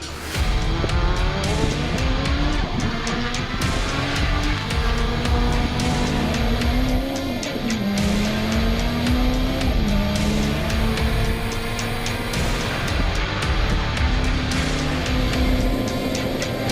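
Four-wheel drive Mitsubishi rally car on Hankook tyres at a rally, its engine revving hard up and down through gears with tyre scrabble, loud and close throughout.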